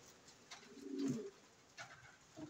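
Pet pigeons coo softly in a low, rolling burst near the middle, with a couple of fainter coos around it in a quiet indoor setting.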